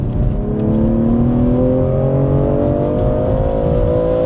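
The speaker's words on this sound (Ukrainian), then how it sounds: "і звук насправді B58, він кайфезний" BMW M340i with the B58 straight-six engine accelerating in sport mode, a loud, steady rising engine drone heard close from inside the car.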